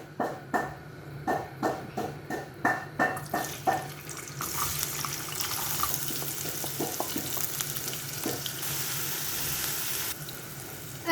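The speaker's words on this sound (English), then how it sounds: "now in the same oil, I'm going to add the chopped onions." Chopped onions hit hot oil in a pan while making Indonesian-style tempeh. Several rhythmic knocks come first, then a steady loud sizzle and hiss that carries on alone.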